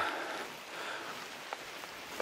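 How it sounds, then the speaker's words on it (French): Rain patters steadily on dense forest leaves along a mountain hiking trail, a soft continuous hiss of drops with a few slightly sharper taps near the end. "la pluie qui frappe les feuilles"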